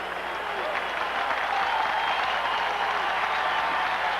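A modest-sized crowd cheering at a 1985 Los Angeles Rams versus Atlanta Falcons NFL football game, a steady wash of applause and crowd noise under continuous play-by-play commentary.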